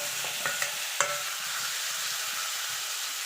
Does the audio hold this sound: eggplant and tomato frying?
yes